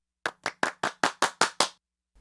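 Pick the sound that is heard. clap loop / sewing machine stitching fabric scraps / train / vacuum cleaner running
clap loop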